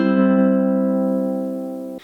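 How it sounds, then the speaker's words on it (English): Single down strum across all four ukulele strings, a bright sustained chord ringing evenly for about two seconds before being cut off, close and alone. "The second way is to play all 4 strings at once in a down strum."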